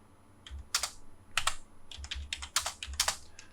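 Keys clatter on a computer keyboard as a distance value of 15 is entered and Enter is pressed while working in AutoCAD, with a quick run of close, crisp clicks in irregular bursts and no one talking.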